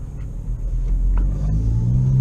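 A 2014 Honda Civic Si sets off on a drive, a low engine rumble building steadily from inside the cabin with a few faint clicks, no talking.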